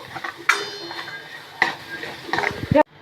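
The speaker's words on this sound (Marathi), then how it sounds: "आता हे तिखट टाकल्यानंतर परतून घ्यायचे चांगलं" Chilli powder masala being sautéed in a pan, with a few sharp spoon scrapes and clinks against the metal over a faint sizzle, ending in a quick rattle.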